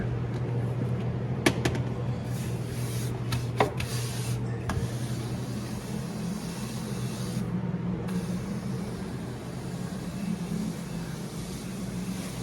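A shed ventilation fan runs above idle on a frigid morning, giving a steady low hum with a faint airy hiss and a few scattered clicks and knocks.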